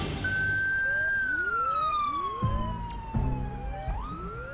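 An ambulance siren from the Emergency 4 Miami mod wails with repeated rising and falling sweeps, close and prominent, with some clunking game sounds underneath.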